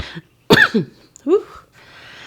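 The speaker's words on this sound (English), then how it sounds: "I'm not going to cough right on you." Two short, raspy coughs come close together, the first stronger than the second, followed by a faint breath.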